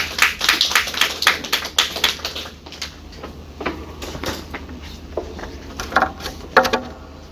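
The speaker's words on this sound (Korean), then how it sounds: "우리 박수로 용기를 주시기 바랍니다." A church congregation gives scattered, uneven applause made of distinct claps that come in bursts and then thin out into sparse individual hand claps.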